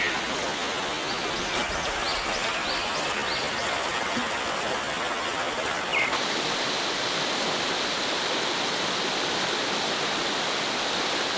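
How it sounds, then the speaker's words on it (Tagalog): Steady, loud rushing of river water near a cave in Cavinti, a constant broadband hiss and roar without pause and with no talking. "lawis-wis ng ilog"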